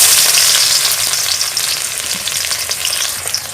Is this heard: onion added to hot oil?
yes